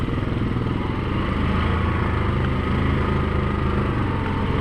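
A 2019 Yamaha Grizzly 700 ATV engine pulling in low gear at night, a steady, loud, close mechanical drone with rapid pulsing throughout and no talk.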